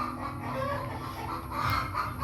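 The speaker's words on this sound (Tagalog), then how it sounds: "ang ingay naman ng aming manok" Farm chickens clucking in a noisy, continuous murmur of calls at close range, with no voices over them.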